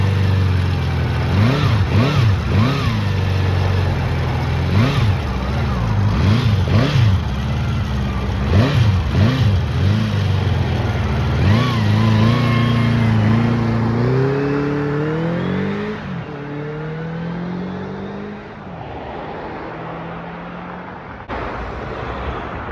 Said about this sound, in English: Loads of traffic.